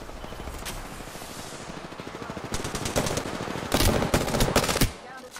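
Gunfire rattles in Apex Legends combat, rapid automatic bursts layered with single shots, growing louder into dense volleys before cutting off abruptly.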